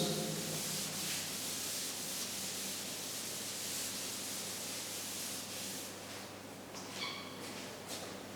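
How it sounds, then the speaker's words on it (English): A duster rubs writing off a classroom board in steady continuous strokes, close and fairly quiet, with no talk over it. "I will rub this."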